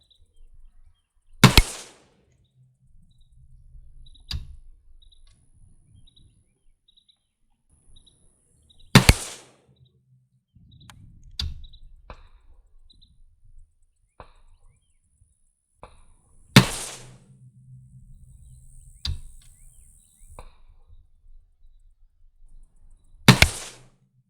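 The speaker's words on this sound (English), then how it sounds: "I proceeded to shoot 5 rounds to confirm my 50-yard zero" Rifle shots from an AR-15 built in the Canadian C7A2 style with an Elcan C79 scope, fired at a 50-yard target: sharp, loud single cracks spaced several seconds apart, with quiet pauses and faint background noise between them.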